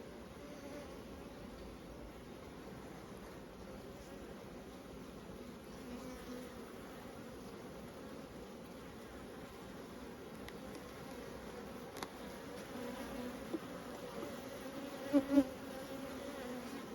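Honey bees buzz at an open hive, a steady, close drone that hums on without a break, with a few faint knocks near the end and no voices.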